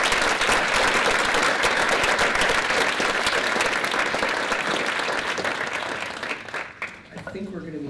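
An audience claps to welcome Dr. Struthers to a lecture, a dense, sustained burst of applause from a hall full of people that thins out and fades near the end.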